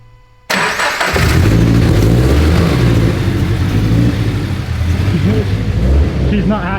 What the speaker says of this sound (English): Try to rev it up and keep it running.